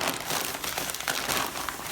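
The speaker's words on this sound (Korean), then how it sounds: "박스에 온 거 뜯어볼게요." A delivered package box is torn open by hand, giving continuous close crinkling and rustling of paper and packing material for a couple of seconds with no talking.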